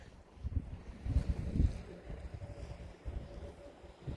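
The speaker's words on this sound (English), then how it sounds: "Wind outside is pretty yucky" Strong gusty wind outdoors near 12 Mile Hot Springs in Wells, Nevada, buffeting the microphone with a continuous low rumble that swells and eases, with no voices.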